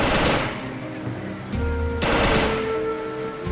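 Machine gun fire in the World War II strategy game Men of War, with sustained loud bursts that cut off and restart over battle noise.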